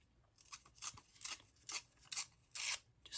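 Scissors snipping through a music page for a flip flap folio journal, a quick series of six or seven close, crisp cuts in an uneven rhythm with no talking.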